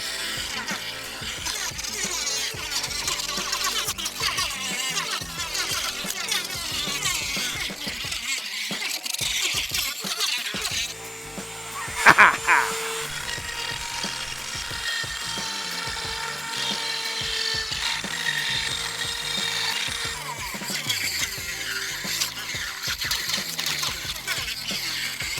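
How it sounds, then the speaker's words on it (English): A Dremel rotary tool cuts during work on a KTM 690 motorcycle's head-race bearing, a steady buzzing whine running through the clip with a brief sharp peak near the middle, close and loud with no talk. "I'm gonna try it with the Dremel."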